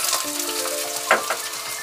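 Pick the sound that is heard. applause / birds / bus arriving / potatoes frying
potatoes frying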